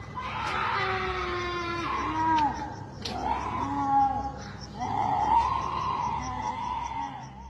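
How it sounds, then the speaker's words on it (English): Long wailing screams ring out through the night air, rising and falling shrieks repeated several times at moderate distance, eerie and siren-like against a low background hum. "the night air is filled with the chilling sounds of blood-curdling screams"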